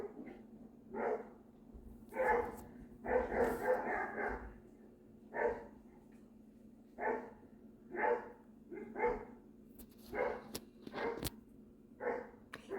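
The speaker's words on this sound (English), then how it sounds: "Usually these two will bark with the neighbor dog, which you probably heard." Dogs bark repeatedly at a moderate distance on a windy, rainy morning, in short single and double barks at irregular intervals, with a quick burst of several barks near the start.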